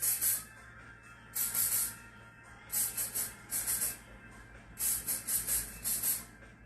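Short hissing bursts from a hairspray can aimed at synthetic hair on a block during a classic updo, several spritzes in an uneven rhythm, fairly faint and close, over a low steady hum with no talking.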